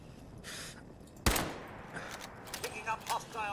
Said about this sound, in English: let's get the sniper out